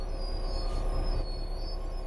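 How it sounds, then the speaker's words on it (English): A train braking to a stop in Train Sim World 5, a continuous loud rumble of wheels on rail with a thin high brake squeal running steadily through it, with no voices. "Bring this train to a complete stop by holding the brake control in the apply state"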